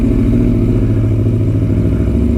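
A motorcycle engine runs loud and close, a steady rumbling idle with dense mechanical clatter throughout and no talking.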